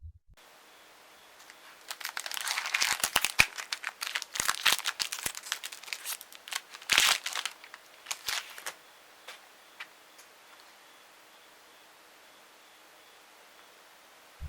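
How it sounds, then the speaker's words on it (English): Crinkling and tearing of a Magic: the Gathering Battle for Zendikar booster pack wrapper as it is opened, with bursts of sharp crackles over a few seconds that taper off into quiet rustles, close up and without talking. "Today, we're going to be opening a pack of Battle for Zendikar, so let's crack it"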